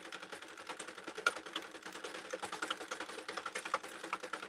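A Sentro 48 circular knitting machine cranked at a steady pace, giving a dense run of quick, even mechanical clicks that carry on without a break for several seconds, fairly close and with no voices over it.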